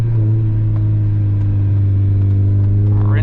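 A Mazda MX5 MK2 engine revs loudly during a night drive on a UK road, a strong steady low drone that climbs in pitch toward the end, close and dominant.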